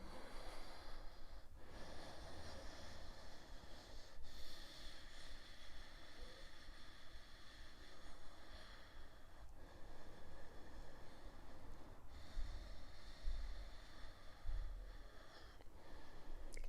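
Slow, deep breaths during a yoga chakra session, a few long airy inhales and exhales drawn through the nose against steady room noise, close and moderately loud with no talking.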